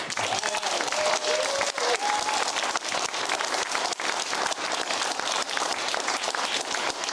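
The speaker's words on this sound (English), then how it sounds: "let's just give him a round of applause" Dense, sustained applause from a large audience, loud and continuous throughout, with a faint voice briefly audible early on.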